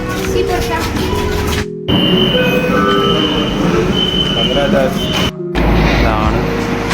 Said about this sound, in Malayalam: നമുക്ക് ട്രെയിൻ മുകളിലാണ്.